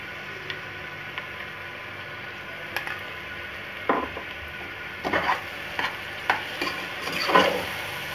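Grated carrot fries in desi ghee for gajar ka halwa, with a soft continuous sizzle broken by repeated scraping strokes of stirring that grow busier toward the end.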